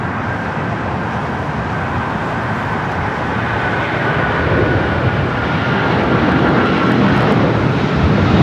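An American Airlines Boeing 777-200ER jet departs Los Angeles International bound for Miami, its engines a loud, steady broadband roar that swells slightly toward the end.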